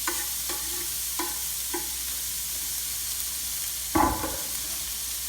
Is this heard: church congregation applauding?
no